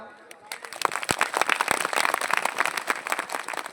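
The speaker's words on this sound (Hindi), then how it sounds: "तो जोरदार एक बार अपने लिए जरा ताली बजा लो" A crowd at a public gathering in Amarkantak claps together, a dense, lively patter of many hands rising quickly and holding steady for a few seconds after a brief quieter start.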